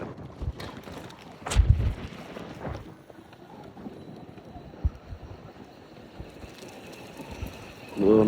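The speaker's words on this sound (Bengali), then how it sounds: "কি বাতাস ভাই রে ভাই" Strong wind blows outdoors and buffets the microphone as a steady rushing roar, with sharper gusts early on and a heavy blast at the very end.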